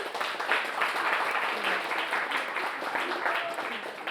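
Audience applause during a live multilingual poetry reading, steady and fairly faint like a hall clapping at some distance, sustained throughout with a slightly diffuse texture.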